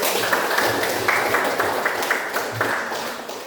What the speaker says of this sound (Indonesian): Untuk semuanya kita berikan aplaus dulu.